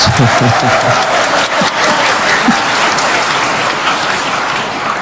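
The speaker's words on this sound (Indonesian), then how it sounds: "tepuk tangan yang kurang semangat saya maklum karena lapar semuanya" Steady applause from an audience at a religious lecture, dense and continuous throughout, with voices faintly audible underneath.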